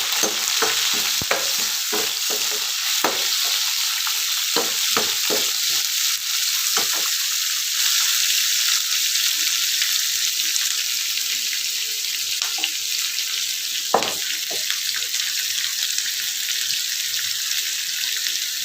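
Onions sautéing with salt and turmeric in a pan for a tomato curry give a steady hiss, broken by scattered clicks and scrapes as a utensil stirs them, with no talking.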